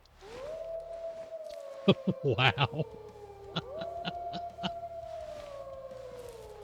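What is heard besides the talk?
wolves howling in the video game Way of the Hunter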